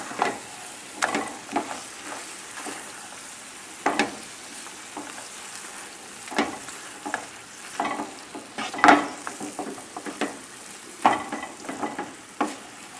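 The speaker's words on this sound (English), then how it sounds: "Now mix it up, because later it will be more difficult." Spinach and salmon with pink sea salt get stirred in a sizzling pan, a soft steady fry punctuated by irregular scraping and clattering strokes of a utensil, close and alone.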